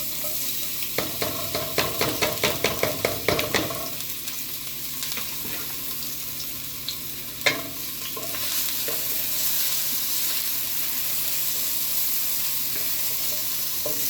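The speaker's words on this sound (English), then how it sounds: "I'm going to pour my garlic in there to start frying" Garlic in olive oil sizzles steadily in a pan after a burst of clattering stirring at the start, with a soft thump midway and frying continuing alone.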